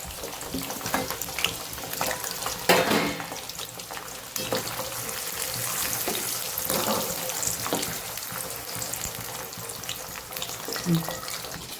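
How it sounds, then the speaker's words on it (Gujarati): Ivy gourd pieces fry in hot oil for a Kathiyawadi potato and tindora dish, with a continuous close sizzle broken by occasional stirring scrapes and clatters, and a faint voice in the background. "સેમ એ જ રીતે આપણે ટિંડોળાને પણ તળી લેવાના છે।"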